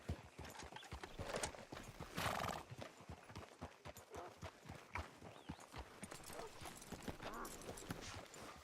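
Hooves clip-clop in a steady rhythm close by, broken by a loud horse whinny partway through, in the video game Red Dead Redemption 2.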